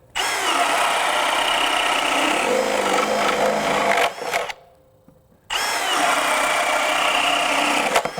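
A cordless drill with a 1.5-inch spade bit bores into wood in a loud, continuous, gritty whir. It stops for about a second and then starts again at full strength, and there is no talking.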